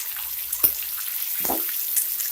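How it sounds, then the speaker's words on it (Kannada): Lemon pepper chicken frying on a high flame, a steady close sizzle with a couple of sharper spits and clatters as pieces are turned. "ಇದು ಹೈ ಫ್ಲೇಮಲ್ಲೇ ಫ್ರೈ ಮಾಡ್ಕೊಬೇಕು."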